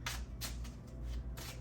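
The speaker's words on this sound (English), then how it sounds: "I'm going to keep shuffling" Tarot cards shuffled in steady riffling bursts, close and fairly quiet, with no talk over them.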